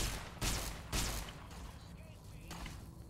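A heavy weapon in Fallout New Vegas fires two loud, booming blasts in quick succession, followed by a fainter third shot, with a speaking voice faint underneath.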